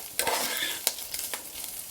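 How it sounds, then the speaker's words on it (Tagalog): Pork belly frying in a pan for pancit, with a soft continuous sizzle and a few sharp scraping stirs of a utensil against the pan, close and fairly quiet. "Ihahalo lang natin. Para mag-sweat yung fat from the pork belly."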